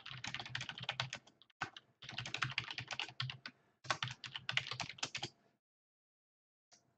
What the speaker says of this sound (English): I know you can hear all my clickety clacks on the keys.